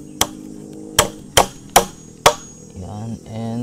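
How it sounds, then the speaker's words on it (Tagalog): A hammer drives nails into pre-drilled plywood with five sharp, separate knocks spaced about half a second apart, close and loud, followed by a short stretch of low talk. "Tapos, martilyo at pako lang."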